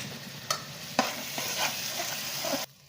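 Macaroni tossed with soy chili sauce in a frying pan gives a close sizzle with several sharp spatula scrapes and knocks, ending abruptly in quiet; nobody talks.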